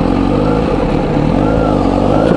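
A Kawasaki Z900RS motorcycle fitted with a new K-Factory exhaust holds a steady, loud engine note as it pulls away, a continuous low rumble with a slight rising pitch and no speech.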